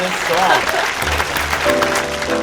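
Crowd applause for a young female singer at a live show, steady clapping with mixed room noise and a few tonal sounds underneath.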